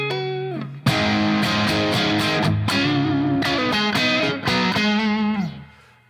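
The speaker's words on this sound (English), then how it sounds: "Let's take the overdrive down a little bit, so we're just pushing the amp." Electric guitar through a UAD Paradise amp simulation with a mildly overdriven, gritty tone playing a short run of chords and notes, then ringing out and fading at the end.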